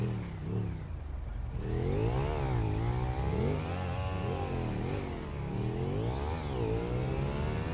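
A motorbike engine in the GTA V video game revs repeatedly, its pitch sweeping up and down in steady surges, fairly close and continuous, with no talking over it.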